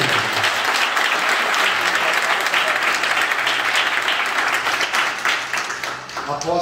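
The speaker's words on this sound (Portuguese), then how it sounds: "Pode aplaudir, Senhor." Sustained loud applause from a large church congregation, steady clapping throughout, tapering slightly near the end.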